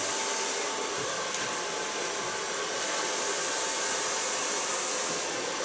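A hair dryer blows steadily at close range while drying the hair at the neckline after a hair color and nape shave, a loud continuous whooshing roar that stays even throughout with no speech.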